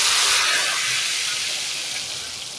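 A loud, bright sizzle bursts up as hot oil tempering is poured onto cooked lentils, then settles into a steady hiss that slowly fades.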